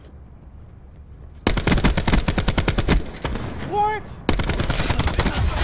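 Call of Duty: Black Ops 4 Search and Destroy match: two loud bursts of rapid automatic gunfire with a short gap between them, a player's voice exclaiming during the pause.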